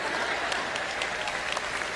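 Audience applause in a church sermon setting, a steady dense wash of clapping from a large crowd, moderately loud and continuous, with no talking over it.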